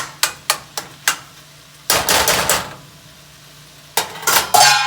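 A metal lid is set and shuffled onto a pan of broccoli curry, giving a run of sharp clanks followed by louder scraping rattles, close and without talk.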